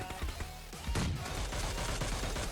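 Rapid bursts of gunfire from PUBG Mobile team deathmatch play, dense overlapping shots that crack repeatedly near and loud, with a heavier volley midway and steady firing continuing to the end.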